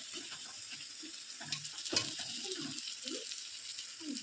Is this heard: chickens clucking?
no